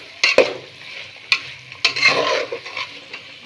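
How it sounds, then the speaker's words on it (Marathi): Chicken biryani is stirred in a pot with red masala and turmeric, giving scraping, clattering strokes of a spoon against the pot over a soft, steady sizzle, with no talk. "आता मस्त आपण हलवून घेऊया"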